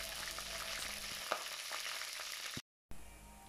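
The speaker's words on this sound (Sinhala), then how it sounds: "මුලින්ම ඇතිලියට තෙල් ටිකක් දාලා තෙල් නටනකොට ඒකට සෝදාගත් කරපිංචා රම්පා එකතු කරගන්න ඕනේ" Curry leaves and rampe fry in hot oil in a clay pot, giving a steady, close hiss and crackle with occasional pops, briefly cutting out near the end.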